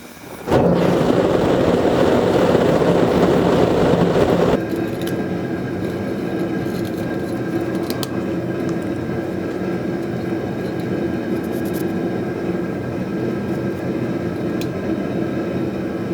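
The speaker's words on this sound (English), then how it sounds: "we'll fire up the forge and start prepping this for another forge weld" A forge for Damascus forge welding fires up with a sudden loud roaring burst that drops after a few seconds to a steady, quieter burner rumble and hiss.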